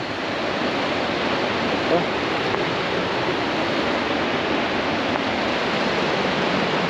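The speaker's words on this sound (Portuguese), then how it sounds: "Olha lá a queda d'água que tem lá atrás. É muito alta." A tall waterfall beside a mountain road sends up a loud, continuous broadband roar that stays steady and unbroken throughout, with no distinct events rising above it.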